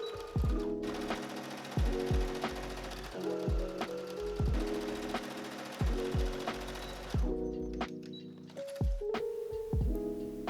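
Sewing machine stitching bucket hat fabric pieces together in repeated bursts, each run of fast rhythmic needle chatter stopping briefly before starting again, close and steady without talk.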